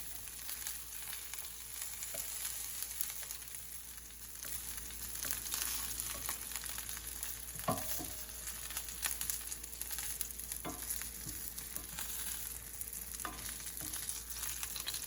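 Shrimp toast fries in a pan on medium heat, giving a steady, close oil sizzle with light crackles and a few sharper pops that runs unbroken for about fifteen seconds.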